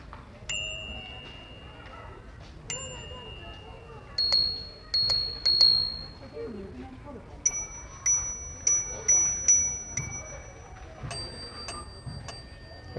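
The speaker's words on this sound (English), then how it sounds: "So these are the different types of bells that they have." Decathlon bicycle bells rung one after another, giving bright, ringing dings in short bursts of two to four strikes, each bell with a slightly different pitch, close up over a quiet background.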